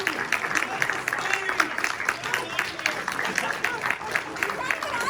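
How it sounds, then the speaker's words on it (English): Panel audience clapping for a guest at a Re:Zero voice actor panel, steady mid-level applause from a crowd with murmured voices mixed in, continuous over five seconds. "He heard them clapping for Bree"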